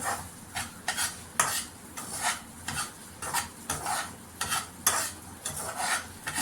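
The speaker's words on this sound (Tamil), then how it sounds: "நல்லா கிளறி விட்டுக்கிட்டே இருக்கணும்" Semolina (rava) is stirred and dry-roasted in a pan, with repeated rhythmic scraping strokes of a spoon across the pan bottom, close and fairly loud, alone with no talk.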